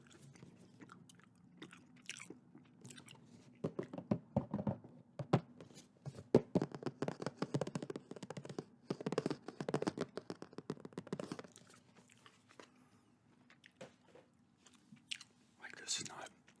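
Close, soft wet gum chewing with irregular smacks and clicks, recorded quietly in an intimate ASMR style, with faint whispery mouth sounds and a low background hum between bursts.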